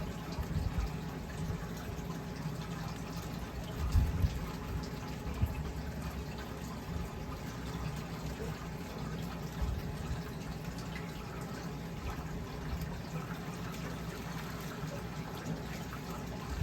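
Water from a fish acclimation bag is tipped out during a puffer fish transfer into a 125-gallon aquarium, a steady soft splashing pour that runs throughout with occasional small drips and bumps.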